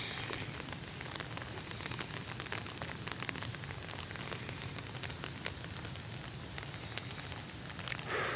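Steady rain pours down, a dense continuous patter of drops hitting surfaces, fairly close and even throughout with no voices.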